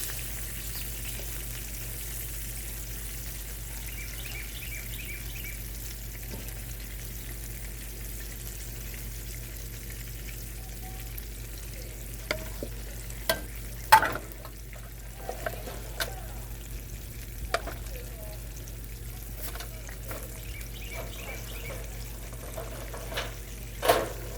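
Flour-dredged chicken for chicken piccata frying in hot oil, a low, steady sizzle running throughout, with scattered sharp pops and clicks in the later part and no talk over it.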